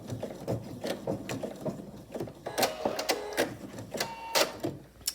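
A sewing machine stitches a vinyl pouch, a quick run of sharp, rhythmic mechanical clicks and thumps at close range, finishing with a final stitch.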